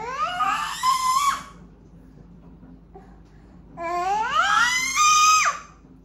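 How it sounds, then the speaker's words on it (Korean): A 22-month-old toddler screams in two long, shrill outbursts of rising and falling pitch, separated by a brief quiet pause, loud and close. "엄마는 소리 지르는 애기랑 얘기 안 해."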